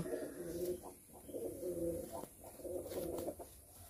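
Madrasi pigeons coo in a steady series of low, throaty, rolling calls, close by, with repeated phrases overlapping one another and no pauses between them.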